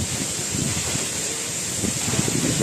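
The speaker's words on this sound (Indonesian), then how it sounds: "Tuh di belakang itu ada air terjun para sahabat." Coban Rondo waterfall in Pujon, Malang, East Java, gives a steady broadband rush of falling water close by, continuous and fairly loud with no talk over it.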